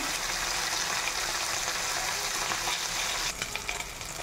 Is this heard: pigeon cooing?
no